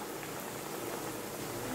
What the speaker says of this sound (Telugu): కొంచెం నేను డీప్ ఫ్రై చేస్తున్నాను కదా